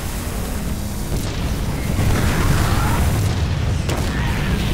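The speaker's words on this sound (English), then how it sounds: "watch those Marauders explode" Marauder units blowing up during a StarCraft 2 battle, a continuous rumbling wash of booms and bursts, loud and dense throughout with no distinct gaps.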